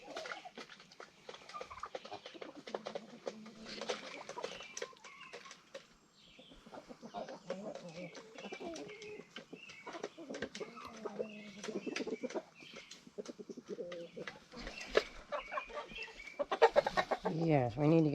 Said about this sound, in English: Yes, too many roosters in here